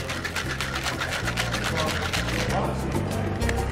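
Cocktail shaker shaken hard for a Neon Margarita with melon liqueur and sour mix, a steady rapid rattle of ice in loud continuous bursts over background music.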